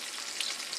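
Chicken frying in a hot, oiled stainless steel pan, giving a steady, close hiss and crackle of sizzling throughout, with no voices.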